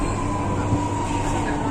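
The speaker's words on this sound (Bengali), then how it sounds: "মেট্রোতে উঠে পড়েছি" Metro train interior with a steady rumble and hum of the moving carriage, continuous and fairly loud with a faint rail squeal, no talk.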